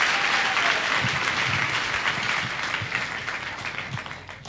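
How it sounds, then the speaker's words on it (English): A church congregation claps together in a sustained burst of applause that fades toward the end, with no voices over it. "Let us clap for Jesus."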